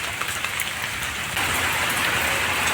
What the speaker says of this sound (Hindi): नेपाल में बहुत बारिश है